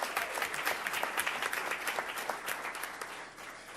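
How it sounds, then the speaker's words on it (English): Applause from an audience of principals at a board meeting, a steady wash of many hands clapping that holds fairly even throughout and eases slightly toward the end. "give them a round of applause"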